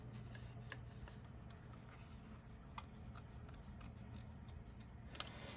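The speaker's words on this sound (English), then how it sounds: "Again, cutting right to the edge." Scissors cut through paper card right to the edge for a poppy card, producing faint, scattered snips over a steady low background hum.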